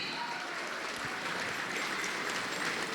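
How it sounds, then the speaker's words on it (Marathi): An audience at a lecture hall event gives a steady, dense round of applause to welcome a speaker, heard from a distance and fairly faint. "टाळ्या आधी यायला पाहिजे न सांगता"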